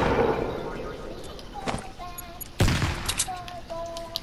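Gunfire in a Fortnite Battle Royale duos match, a few sharp shots and bursts at mid distance over game sounds, with a sudden louder crack partway through and people talking lightly underneath.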